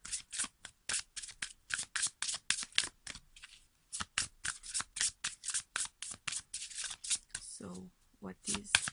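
Oracle cards being shuffled by hand, a close, rapid run of crisp riffling flicks and slaps in quick bursts with brief gaps, and a short stretch of voice near the end.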